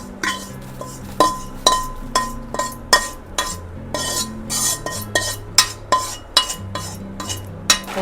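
A spoon stirs a tempering into crispy okra fry in a metal pan, giving a steady run of sharp scrapes and clinks against the pan, each distinct and close, with no talk.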